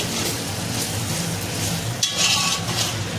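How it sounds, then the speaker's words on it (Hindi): Ginger and garlic fry in a pan for chicken biryani, a steady close sizzle with stirring scrapes throughout and a brief metallic clink of utensil on pan partway through. "ये देखिए अच्छे से इसको भून लिया है अदरक लहसुन डाल के"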